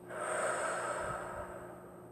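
A single long, soft exhale out through the mouth during a guided breathing exercise, close and breathy, fading gradually.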